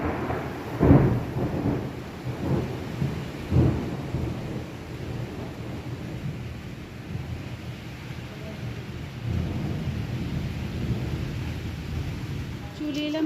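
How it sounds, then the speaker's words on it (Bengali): Storm heard from indoors, with low rolling thunder rumbles early on and a steady roar of wind and rain, moderately loud and continuous. "ঘরে বসেই দেখি ঝড়।"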